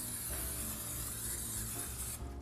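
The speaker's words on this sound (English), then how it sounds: "spray that pan." A continuous hissing spray from a cooking spray can onto a pan lasting about two seconds, close and steady, then cutting off abruptly near the end.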